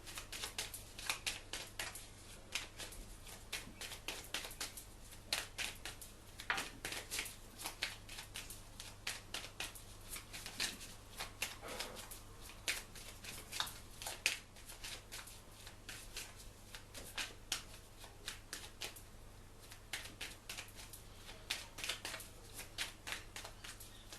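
Divine Oracle cards are shuffled by hand, with a steady stream of soft riffling taps and flicks, faint and close, with no voice over them.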